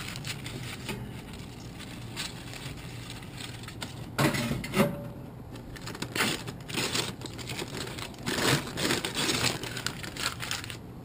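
Paper burns beneath a backyard barbecue grill set up for cooking fajitas, giving off irregular crackles and sharp snaps that come in scattered bursts over a steady low hiss, moderately quiet and close.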